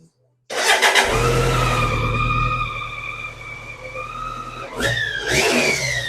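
BMW K100 motorcycle engine cranks and fires up, settling into a loud, steady idle with a brief revving blip near the end, close by and continuous.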